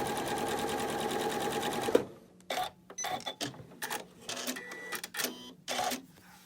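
Sewing machine stitching quilt block fabric with a sharp Microtex needle, a steady dense mechanical whir for about two seconds, then stops, followed by intermittent clicks and fabric handling noises.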